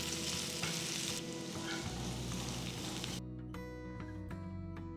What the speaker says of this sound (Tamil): மீன் பொரிச்சதும் அதே பேனில் ஒரு வெங்காயம் மெலிசா நறுக்குனது, 3 பச்சை மிளகாய் கீர்னது போடுறேன்.